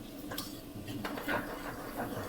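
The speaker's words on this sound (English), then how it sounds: "Stir those in as well." Fresh herbs are stirred into eggs in a pan while cooking Thai son-in-law eggs, giving quiet scraping and clinking of a utensil against the pan over a low background sizzle.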